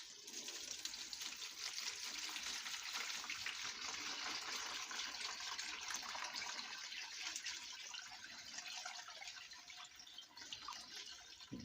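Water runs and splashes steadily as flakes are rinsed off a part in a chloride rinse, stage one. The hiss of the flowing water is quiet and continuous, with no one talking.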